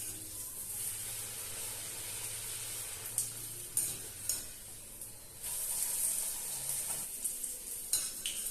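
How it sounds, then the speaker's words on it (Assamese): Luchi, thin dough rounds, deep-fry in hot oil with a continuous soft sizzle, broken by sharp clinks of a metal utensil against the pan. "এতিয়া মই লুচিকেইখন ভাজি লওঁ"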